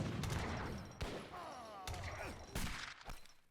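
Units trading fire in an Age of Empires III battle, a steady crackle of gunshots and volleys with a few sharper bursts, busy and mid-distance with no talk over it.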